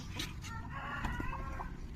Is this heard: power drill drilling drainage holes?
no